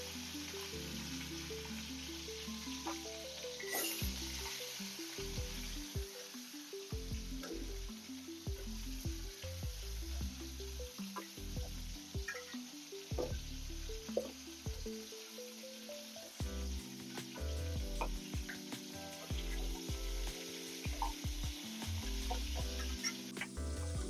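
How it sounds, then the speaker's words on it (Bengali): Khoyera fish rubbed with salt and turmeric sizzle steadily in hot oil, a continuous close frying crackle under background music. "এর মধ্যে দিয়ে দেবো মাছগুলো।"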